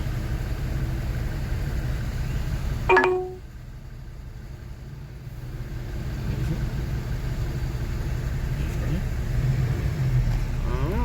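Street traffic in Cancun, Mexico, passes as a continuous low engine rumble of vehicles and big buses, interrupted by one short sharp clatter, with muffled speech underneath.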